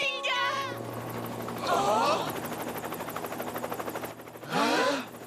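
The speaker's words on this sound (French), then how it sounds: "Encore cet hélicoptère!" Rapid rhythmic rotor chopping of a helicopter thumps steadily in the background while voices speak in short bursts over it.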